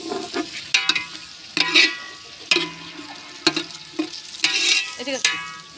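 Eggplant fries in a pan with onions and spices, heard as a low sizzle broken by frequent, irregular spatula scrapes and ringing clanks against the pan, fairly close and loud.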